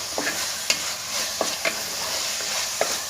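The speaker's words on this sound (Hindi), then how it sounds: "इसको अच्छे से भूनेंगे" Keema masala sautéing in a pan for keema masoor biryani, a steady soft sizzle with several sharp spatula scrapes and stirs against the pan at irregular intervals, close and moderately loud, no talking.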